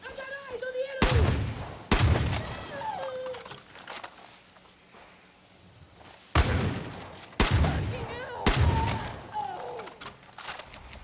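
Shotgun blasts in Far Cry New Dawn, four heavy booming shots spaced a second or more apart, each with a long decaying tail, while a voice talks and other game sounds play between shots.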